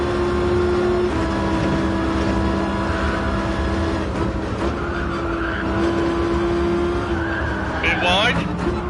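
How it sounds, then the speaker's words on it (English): Engine drone runs steadily from a GR1T race car in Gran Turismo Sport, with a short, sharp tyre squeal near the end as it pushes wide through a corner; someone speaks over it. "That's why I can hear the tyres squealing"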